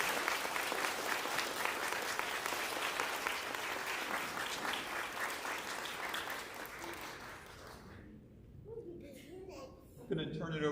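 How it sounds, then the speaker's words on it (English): Sustained applause fills a 5th grade farewell ceremony, a thick, even clatter of many hands for about eight seconds before fading, with a few voices and scattered chuckles emerging as it dies down. "can we give them one more round of applause?"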